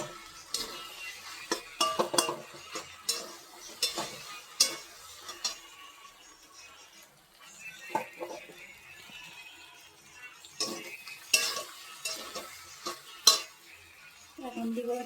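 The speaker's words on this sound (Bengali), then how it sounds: "মশলাটা দিয়ে এখন ভালো করে নেড়ে দিই।" Maggi noodles with mutton masala stirred in a pan, intermittent clinks and scrapes of a utensil against metal over a faint sizzle, in bursts separated by quieter gaps.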